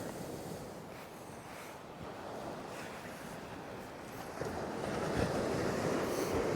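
Sea surf washing steadily against the eroding coastline at Hemsby, a broad continuous wash mixed with wind noise on the microphone, swelling a little louder toward the end; no voices.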